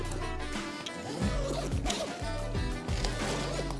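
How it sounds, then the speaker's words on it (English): A Jetsurf board bag being unzipped, holding a 2024 Jetsurf Cruiser DFI, gives several rasping zipper pulls in quick bursts, close and loud, with rustling between strokes. "zip her out."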